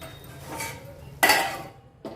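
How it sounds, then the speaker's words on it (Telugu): A metal lid set onto a cooking pan of ivy gourd fry makes a sharp clank followed by a short rattle, then a second lighter knock, close by and fairly quiet in a kitchen. "ఇట్లా మూత అయితే కరెక్ట్గా పెట్టుకోవాలి"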